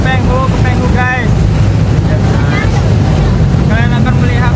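A boat ride at sea off Penghu, Taiwan, with a constant loud engine drone and buffeting wind noise on the microphone, while people talk over it throughout.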